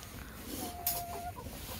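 A broody buff Orpington hen gives a soft, drawn-out cluck nearby over faint background noise, followed by a few quieter rustles.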